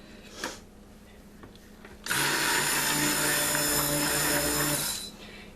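A stick blender whirs through liquid soap-making oils in one steady burst of about three seconds, starting abruptly and stopping cleanly, with quiet room sound on either side.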